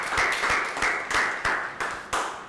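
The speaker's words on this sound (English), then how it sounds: "Can we have a round of applause?" Classroom round of applause from a group of young pupils: steady, moderately loud clapping that keeps up at a brisk, even rhythm throughout.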